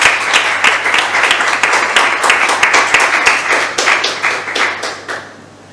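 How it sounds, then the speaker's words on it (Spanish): An audience at a short-story literature reading applauds for a group member, brisk close clapping with distinct individual claps that taper off at the end. "un aplauso para Pepe."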